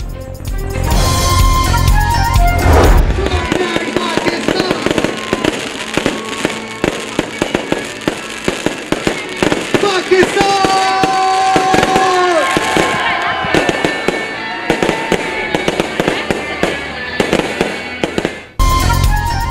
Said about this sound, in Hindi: शहर शहर आतिशबाजी से आसमान रंगों में नहा गया